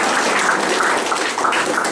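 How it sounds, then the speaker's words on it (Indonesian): An audience at a school opening ceremony claps for students, a steady, moderately loud patter of many hands without talk. "Tepuk tangan untuk"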